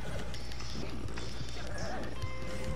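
A horse in Red Dead Redemption 2 clip-clops and whinnies amid busy game sounds, with a faint neigh rising over steady background noise.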